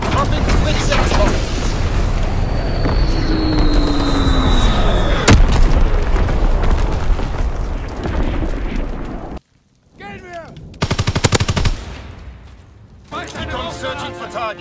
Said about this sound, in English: Dropping Blitzex bomb.